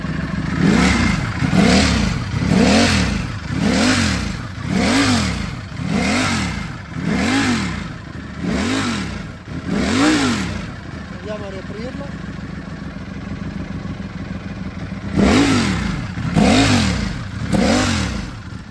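A motorcycle exhaust fitted with an adjustable sound-control valve revs repeatedly in regular rising-and-falling bursts, loud and close, then idles briefly before the revving resumes with a slightly different tone as the valve is moved between open, intermediate and fully closed.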